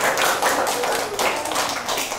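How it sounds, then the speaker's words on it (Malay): Year 4 pupils in a music lesson clap for themselves, a close, dense burst of steady applause that fills the room without talk. "Ya, sekali bagi tepukan untuk diri sendiri."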